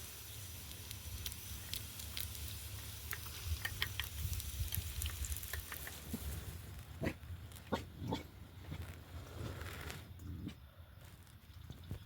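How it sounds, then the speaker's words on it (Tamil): A dog barks several times outside at night at a solo campsite in a grassy area of Sri Lanka, short sharp bursts cutting through a steady low hum and crackling, fairly distant, with no talk. "நாய்த்தா குலைக்குது"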